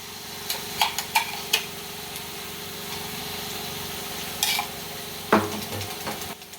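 Ginger-garlic paste frying with onions in a pan for a vegetarian thali, with a few sharp spoon-on-pan clinks and scrapes, then a brief louder sizzle burst near the end over a quiet kitchen background.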